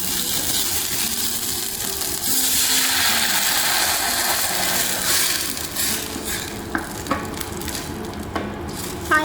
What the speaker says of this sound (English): I'm going to drop in the ginger.